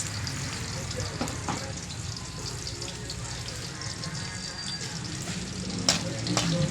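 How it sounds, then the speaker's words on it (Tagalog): Shrimp paste (alamang) frying in a pan with chili, garlic and onion, a steady close sizzle running throughout with occasional stirring clatter and faint water sounds. "Yan ang pagluluto ng alamang ni Tenten"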